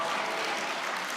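A church congregation at a Christmas celebration service breaks into applause, a dense, even wash of many hands clapping at close range, steady and unbroken for its whole short length.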